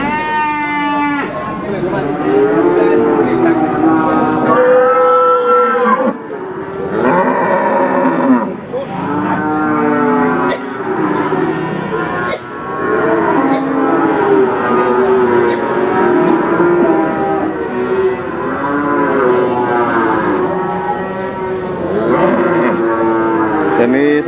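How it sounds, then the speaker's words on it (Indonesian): Simmental cattle moo repeatedly at the Paing livestock market in Winong Kidul, Pati: loud, close, drawn-out calls overlapping one another almost continuously, with a few short breaks between them. "sapi-sapinya seperti ini, teman-teman."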